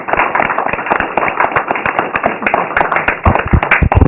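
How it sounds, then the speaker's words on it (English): An audience applauds for guests on a talk show, giving dense, loud, rapid clapping that continues steadily throughout. "Applaud!"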